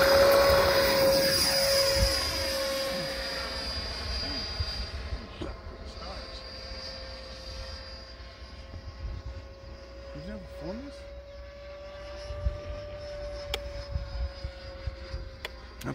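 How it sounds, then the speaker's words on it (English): A radio-controlled Freewing Eurofighter model jet's steady whine and roar fills the air, loud at first, then settling into a sustained drone as it flies off, with brief voices underneath. "What kind of plane is that? That would be a Eurofighter."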